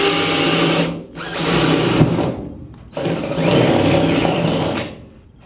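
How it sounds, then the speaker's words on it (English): A power drill bores a hole in the quarter panel trim of a 1965 Mustang, whining loudly in two long bursts separated by a short pause, close up and without talk. "So I can drill that one."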